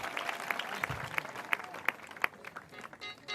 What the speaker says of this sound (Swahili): Acha tumpe Yesu makofi makubwa.